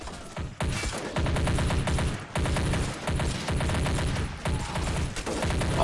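Dense gunfire rattles through a battle in the video game Army Men Of War, with overlapping rifle and machine-gun bursts and booming shots filling the whole stretch at a steady, loud level.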